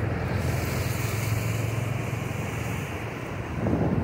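Strong floodwater current rushing during heavy monsoon rain, a dense, steady roar of turbulent water with wind buffeting the microphone, continuous and loud throughout with no talk.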